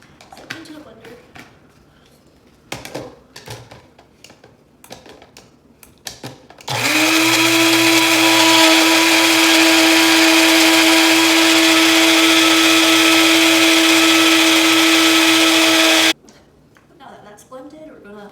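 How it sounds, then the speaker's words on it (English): A blender whirs loudly and steadily for about ten seconds, blending passion fruit pulp with seeds, with clicks and handling noises before and after and brief talk nearby. "we're gonna want to blend these up because we don't want to have the crunchy texture from the seeds"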